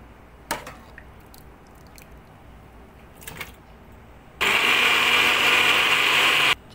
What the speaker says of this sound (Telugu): మిక్సీలో వేసుకుందాం.